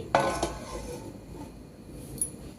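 Lid placed on a wok to steam a cauliflower batter plate: one sharp metallic clank followed by a softer knock, then a faint ringing tail and a small later tick, close and quiet.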